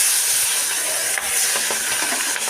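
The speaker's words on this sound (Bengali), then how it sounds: "আমি ফুলকপিটা একদম টাটকা ফুলকপি অল্প করে ভাজা করে নিলাম" Fresh cauliflower pieces frying lightly in a pan give a steady, close hiss of sizzling oil with faint crackles throughout, no voices.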